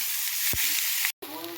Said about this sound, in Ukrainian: На розігріти сковорідку висипаємо цибульку і моркву.